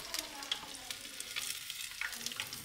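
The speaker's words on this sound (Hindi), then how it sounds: "ये चिकन सारा फ्राई हो गया" Chicken fries in a pan with a dense, steady sizzle and crackle, fine spitting pops scattered throughout, close and moderately loud with no voices.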